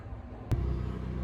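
An RV's onboard generator kicks on with a sudden thump, then settles into a low, steady rumble that stays fairly quiet.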